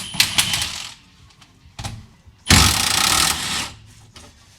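A power tool removes the 14 mm and 17 mm drive shaft bolts on a Nissan 350Z in a garage, with scattered clicks and clanks and then one loud, harsh rattling burst of nearly a second, close by.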